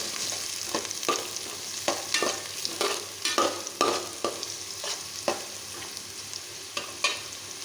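Crushed garlic frying with drumstick leaves in a pan, stirred with a spoon in repeated scraping, clattering strokes over a continuous close sizzle, no voices.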